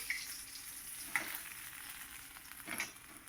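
Pieces of chitol fish belly frying in hot oil in a pan give a steady, close sizzle with a few brief clinks as they are lifted out, and no one talks.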